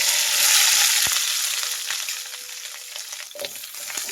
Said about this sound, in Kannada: ಎಣ್ಣೆ ಬಿಸಿಯಾಗಿದೆ. ಕ್ಯಾಪ್ಸಿಕಮ್ ಹಾಕ್ತಾ ಇದ್ದೀನಿ.